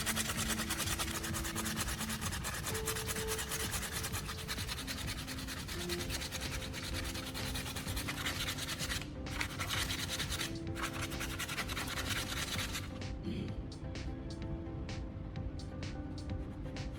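Steady abrasive rubbing of sandpaper over hot glue on a cracked plastic repair, flattening the surface before painting; a continuous close scratching texture with brief pauses, no talk.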